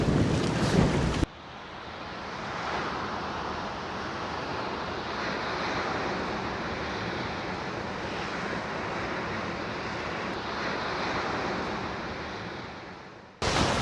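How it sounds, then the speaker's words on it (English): Strong gale wind roars in a sustained, buffeting rush against the microphone on the Indian Ocean coast, with a faint wash of sea underneath and no talking. "It's blowing a gale."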